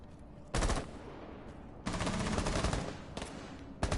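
Rapid automatic gunfire in a video game esports match: a short burst, then a longer sustained volley, and another burst at the end, loud and close with no talk over it.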